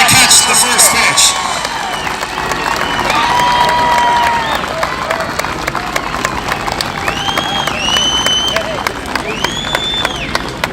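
A crowd at an outdoor community softball tournament in a Chicago park applauds and cheers loudly, with clapping, whistles and shouts filling the scene for about ten seconds before easing slightly.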